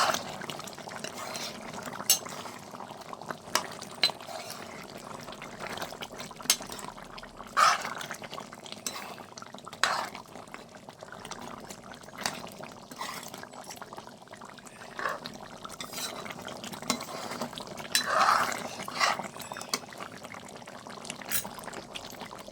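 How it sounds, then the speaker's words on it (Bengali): Cornflour slurry poured into chili chicken gravy in a pan and stirred, with soft liquid splashes and scattered utensil scrapes and clinks against the pan over about twenty seconds, fairly close and moderate in level. "গ্রেভিটা গাঢ় করার জন্য আমি এখানে কর্নফ্লাওয়ারটা গুলে নিয়েছিলাম, সেটা দিয়ে দেবো, দিয়ে আমি একটু ভালো করে নেড়ে চেড়ে নাবিয়ে নেব।"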